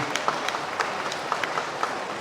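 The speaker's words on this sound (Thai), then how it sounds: "ปรบมือให้กับทางกองทัพอากาศ แล้วก็นักบินทุกคนหน่อย" Applause for the air force and its pilots at a homecoming for Thai workers returned from Israel, a soft, steady patter of scattered clapping with sharper individual claps standing out.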